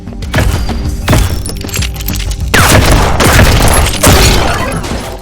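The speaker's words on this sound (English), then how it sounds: "The sound effects from gun blasts, reloading, explosions and whatnot are on point." Gun blasts and explosions from the video game Dust & Neon: loud, sharp shots fire in quick succession, then heavier booming blasts with rattling debris, dense and close throughout.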